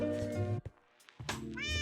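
A Minecraft cat meows twice in a game, short clear cries close up with a brief gap between them.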